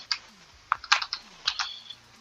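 Typing on a computer keyboard, a run of irregular close key clicks with short pauses between bursts, no voices.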